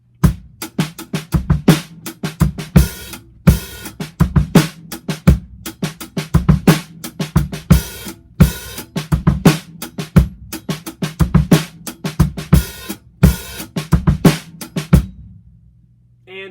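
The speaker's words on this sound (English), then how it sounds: "Adding some open hi-hats to this is going to emphasize some of the 7/4 nature of it." Drum kit groove in 7/4 time with open hi-hats added, sizzling washes accenting the uneven repeating phrase over kick and snare, played slowly, close and loud, ending with a brief fading ring.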